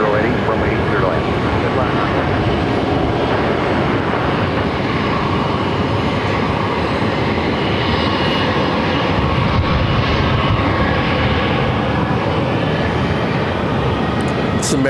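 An Airbus A321neo jet lands with a loud, continuous broadband engine roar that stays close and steady throughout, and spoken commentary comes over the noise.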